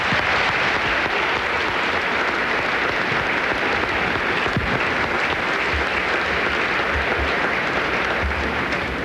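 A tennis crowd on court at the Cincinnati tournament gives a sustained, dense round of applause for the tournament director, holding steady and loud for the whole stretch.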